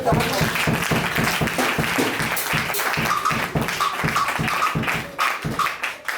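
A church congregation claps in a fast, steady rhythm, loud and close, while voices call out and cheer over the beat.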